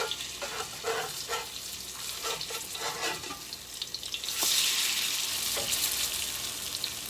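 Hot water cornbread sizzles as it fries in grease in a pan, turned over to cook on the other side; a steady close crackle with a few utensil taps early on, then a louder, denser hiss from midway.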